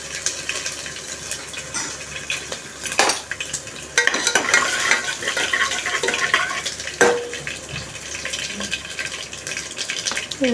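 Small pieces of ginger and peppercorns frying in a pan for godhuma rava khichdi, a continuous sizzle and crackle with a spoon stirring and scraping and occasional sharp metallic knocks, close and busy.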